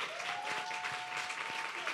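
Audience at a community outreach session clapping together, a soft, steady wash of many hands at a distance, continuous for a couple of seconds with a faint tonal whine beneath.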